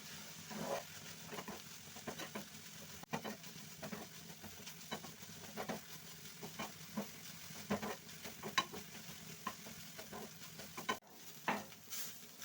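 Cloves and whole spices fry in oil for a red mutton sambar, giving a soft steady sizzle broken by frequent light stirring scrapes in the pan, with no talking.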